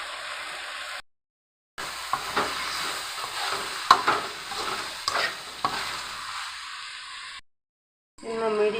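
Curry leaves and a little ghee fry in a pan for a brinjal poriyal, giving a steady close sizzle with hissing, scattered crackles and a few stirring knocks, broken by two short pauses.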